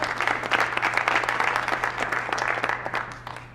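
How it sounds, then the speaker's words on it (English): An audience applauds at a soccer club announcement event, dense clapping holding steady and then tapering off near the end, with a low constant hum underneath. "let's clap on that"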